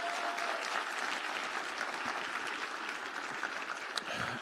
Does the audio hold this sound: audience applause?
yes